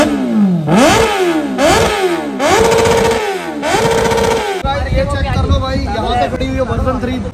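A sport motorcycle with a loud stock exhaust revs hard in neutral, several rising throttle blips climbing and falling, close and loud, before settling into a rough, burbling idle.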